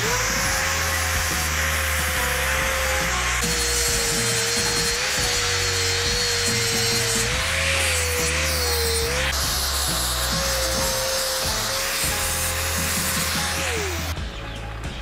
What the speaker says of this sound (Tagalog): So ngayon i-grind natin siya.